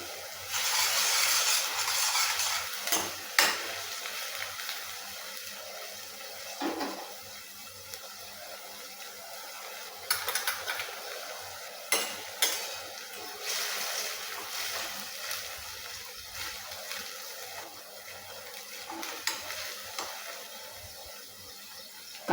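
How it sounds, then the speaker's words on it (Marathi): Onions sauté in a pan over a high gas flame, giving a steady broadband hiss with scattered crackles and pops that runs throughout, fairly close, with no talking. "कांदा थोडा चांगला परतू द्यायचा आहे."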